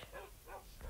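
A dog barks in Minecraft survival gameplay, giving about three soft, short barks spaced evenly across a second, faint and slightly muffled, with no talk over them.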